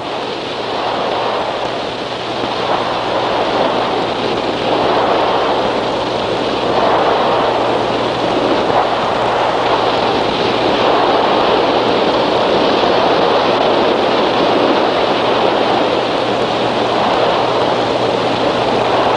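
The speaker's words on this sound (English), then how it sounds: "Let's find out what effect waves like these have on a beach." Ocean waves wash continuously onto a sandy beach face, a loud, steady broadband surge and hiss with gentle swells in intensity and no voices.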